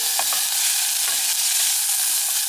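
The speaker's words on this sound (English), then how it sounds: "Gonna stir fry it for a bit with the oil" Chopped ingredients stir-frying in very hot chicken-fat oil for Hainanese chicken rice, a steady close hiss of sizzling with faint scraping stirs throughout.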